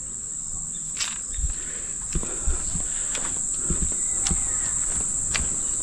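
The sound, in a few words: crickets chirping at night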